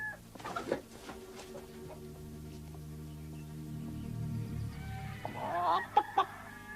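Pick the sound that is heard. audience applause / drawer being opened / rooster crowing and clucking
rooster crowing and clucking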